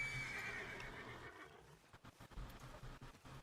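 Horse neighs in Red Dead Redemption 2: a close, loud whinny at the start, then hooves clopping in an uneven rhythm as it moves.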